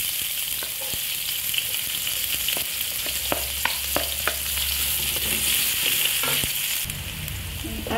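Garlic and onion sauté in a pan for lasagna with a steady sizzling hiss, broken by scattered clicks and scrapes from stirring, close by and with no voices.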